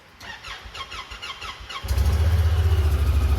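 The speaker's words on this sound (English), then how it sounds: "sounds like it sounds like it's got a muffler delete" A heavy machine's engine without a muffler cranks with a rhythmic starter whine, then fires into a loud, deep, pulsing rumble that holds steady close by.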